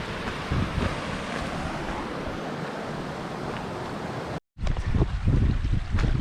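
A mountain creek running full during a trail ultramarathon, a steady broadband rush of flowing water close to the microphone, briefly cut out before resuming with some wind buffeting.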